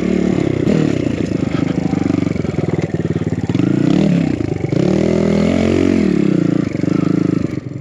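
Enduro motorcycle engine revving hard on a gnarly Vancouver Island trail, throttle rising and falling with clatter and scrapes over rough ground, loud and close throughout.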